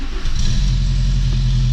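A VW Golf 3 with a swapped 1.8T engine and an exhaust leak drones loudly and steadily close by, a held rumbling idle-to-rev note with raspy, puffing exhaust texture throughout.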